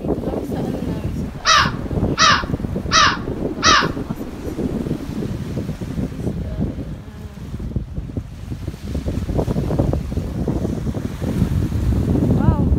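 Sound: large sea birds calling

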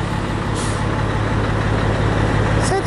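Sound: truck passing with engine and air brake

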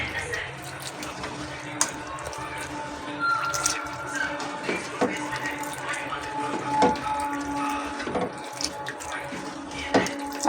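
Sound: squeezing tamarind in water by hand for rasam

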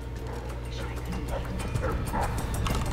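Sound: dogs barking in the video game Dishonored 2

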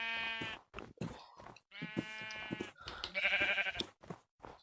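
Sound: sheep bleating in video game Minecraft

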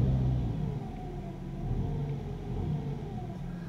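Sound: BMW F30 3 Series engine revving as throttle is pressed

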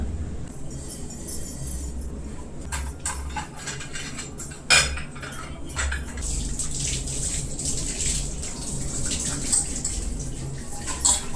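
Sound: washing dishes

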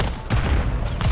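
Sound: gunfire from Call of Duty Modern Warfare 3 video game

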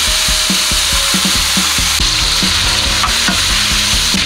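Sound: beef brisket frying in a pan

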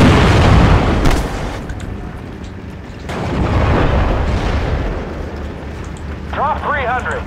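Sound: rocket artillery barrage exploding, video game Steel Division: Normandy 44

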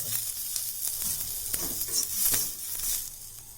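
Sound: hot oil tempering sizzling over onion

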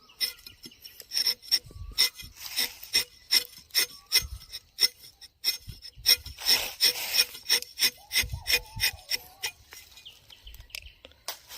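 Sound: rubber tapping knife scraping bark

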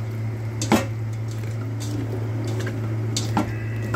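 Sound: mixing marinated chicken heads in a bowl

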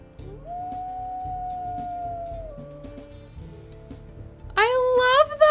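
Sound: wolf puppy howling in video game WolfQuest

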